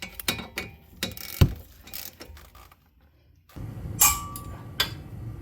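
Ratchet tightening the lower brake caliper bracket bolt on a GR86, a series of sharp clicking bursts in short strokes, a pause of near silence, then more clicks.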